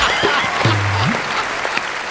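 An audience at a stage comedy show applauds in a dense, steady wash of clapping, with a brief voice tone rising over it.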